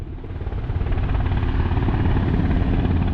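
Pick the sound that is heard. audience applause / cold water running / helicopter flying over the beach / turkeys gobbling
helicopter flying over the beach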